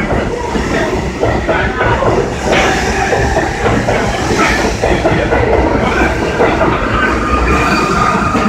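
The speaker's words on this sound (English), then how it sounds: "This is the R62A 4 train, rarely running on the 4 line." An R62A subway train on the 4 line pulls out of 125th Street station, a loud, continuous rumble of wheels and clattering rail noise throughout, with some voices under it.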